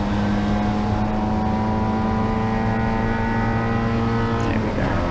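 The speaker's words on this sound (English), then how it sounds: "Hear the MX5 of Mike Forrest now. That deep kind of verbal, you can hear the gear he's in" Mazda MX5 race car engine at racing speed with a deep, steady drone, held in one gear throughout, loud and close, with other cars running alongside.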